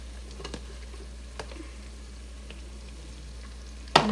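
Chopped coriander going into a hot sizzling tempering for a whole green moong dish: a faint, even hiss with a few small pops, then a sudden clatter near the end, heard up close without any talk.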